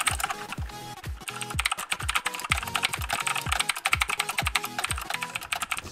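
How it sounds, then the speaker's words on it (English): Rapid, clicky keystrokes on a Havit HV-KB378L mechanical keyboard with blue switches, loud and close, with an uneven typing rhythm and occasional heavier thumps. "So here's a little typing test."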